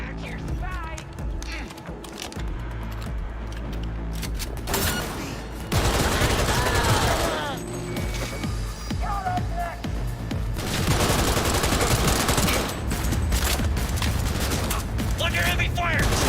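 Heavy gunfire in the video game Cyberpunk 2077: dense bursts of automatic shots and mechanical clatter over a continuous game soundscape, loud and sustained, with voices heard among the shooting.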